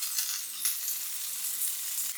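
Yakitori pieces browning in a pan give a steady, close, bright sizzle and crackle of frying with no talk.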